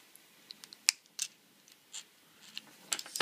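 Scissors cut two parts while a Multistar 30A ESC is prepared, giving a few quiet, sharp snips and clicks spread out with pauses between them.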